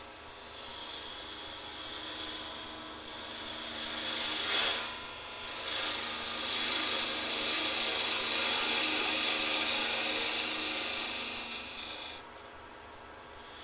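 A skew chisel cuts a wooden Easter egg spinning on a lathe, giving a continuous, close hissing rasp that swells and dips slightly as the cut moves along and then eases off near the end, with no talk.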